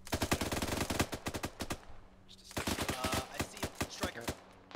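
Rapid automatic gunfire in the military shooter Arma 3, loud bursts of shots in quick rhythm broken by a short lull, then more sustained firing with faint talk beneath.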